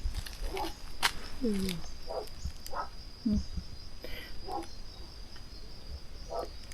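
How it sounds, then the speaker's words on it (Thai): Wild mountain frogs call in daytime from deep forest near a rock shelter and a flowing stream, giving short scattered croaks at irregular intervals over a steady high insect drone, fairly near and moderate in level. "ตัวนี้ก็เป็นเสียงอึ่งนะครับผม เป็นอึ่งป่า อึ่งภูเขานะครับ"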